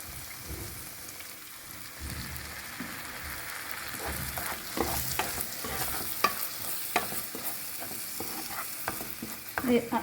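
Egg masala being stirred in a pan, with repeated scraping strokes over a continuous sizzle that grows busier and louder toward the end.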